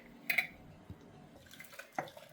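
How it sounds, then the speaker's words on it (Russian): Water from a jar of cucumbers being poured out into a kitchen sink, quiet splashes and drips in a few short bursts with gurgling between them, close and faint. "Первый раз заливаем, огурчики стоят 10 минут, сливаем воду в раковину"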